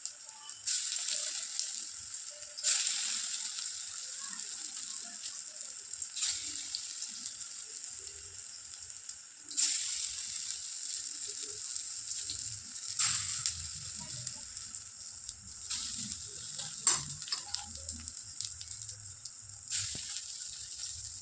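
Masoor dal fritters sizzle steadily in hot oil, a continuous bright frying hiss with occasional louder crackling bursts, close and alone with no voices.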